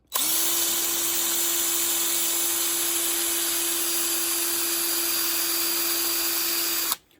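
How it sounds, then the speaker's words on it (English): Steady high-pitched whir of a power drill drilling out a bolt on a Honda CL350/CB350 motorcycle, running continuously for about seven seconds, close and loud, starting and stopping abruptly. "Drilling this bad boy out"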